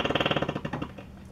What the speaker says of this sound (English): That's the sound of a propeller jetpack.